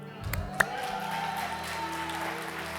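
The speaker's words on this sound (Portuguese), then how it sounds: "Vamos ficar de pé, irmãos. Vamos aplaudir." A church congregation at a Sunday family service claps together, a dense wash of applause that holds steady after a couple of sharp opening claps, with voices mingled in and a sustained tone running underneath.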